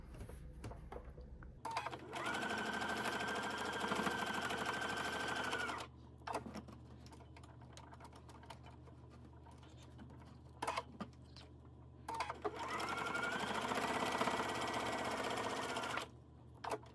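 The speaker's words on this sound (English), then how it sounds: "we're gonna sew on either side of that" A sewing machine stitches fabric seams for a quilt block in two steady, close whirring runs of about four seconds each, separated by quieter handling and fabric rustle.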